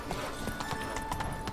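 A horse gallops in the game The Witcher 3, its brief rapid hoofbeats partly buried under a dense wash of game sound.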